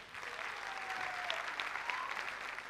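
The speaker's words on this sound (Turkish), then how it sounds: "ben her ikisi için de bir alkış rica ediyorum" A studio audience at a televised singing competition breaks into sustained, even applause, dense clapping heard from a moderate distance with faint voices mixed in.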